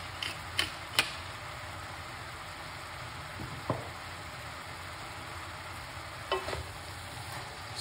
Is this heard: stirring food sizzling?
yes